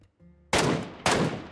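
Two loud gunshots ring out in PUBG Mobile's Metro Royale mode, sharp close blasts about half a second apart with long noisy tails, after a quiet low hum.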